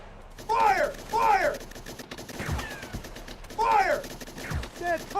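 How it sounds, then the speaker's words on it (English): Gunfire from a .30 cal machine gun in the PC tank game Sherman Commander: a few sharp, spaced shots mixed with tonal game voices and effects. "Aim at the enemy and press the left mouse button to fire."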